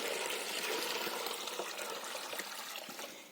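Warm water is poured into cold drinking water for goats on a frosty winter farmyard, making a continuous rushing, splashing stream that fades slightly toward the end.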